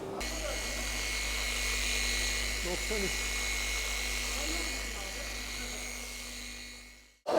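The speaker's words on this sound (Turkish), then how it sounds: "Rotary olsa sabit tutup çizik alınabilir ama bu orbital abi. Bu makineyi sürekli oynatman gerekiyor." An orbital polisher works on Cadillac paint in a garage, giving a steady, close electric whir with a low hum underneath that cuts off abruptly near the end, while people talk over it.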